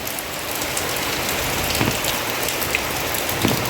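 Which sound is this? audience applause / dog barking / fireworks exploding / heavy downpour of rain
heavy downpour of rain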